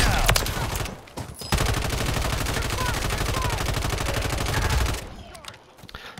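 Rapid sustained automatic gunfire from a recoil-free weapon in the Call of Duty game, a dense, evenly spaced stream of loud shots lasting several seconds, with brief bursts before and after.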